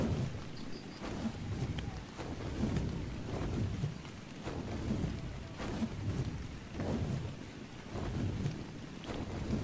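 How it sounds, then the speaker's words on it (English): Rain and wind in the video game Ark, a steady hiss of rainfall with gusts that swell and fade in slow repeating waves, fairly faint and steady throughout. "I am getting lost in the rain"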